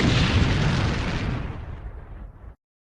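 An explosion sound effect: a single loud, deep boom that rumbles and fades steadily over about two and a half seconds, then cuts to silence.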